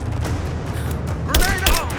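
Gunfire from a Rise of the Tomb Raider firefight on extreme survivor difficulty comes as loud, dense booming shots and thuds, closely mixed with shouted game voices and rumbling combat noise.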